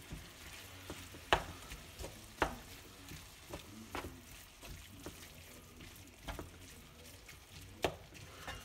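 Venison stirred around in olive oil in a sizzling pan, with sharp spatula scrapes and clacks every second or so over a low steady frying crackle, close and fairly quiet.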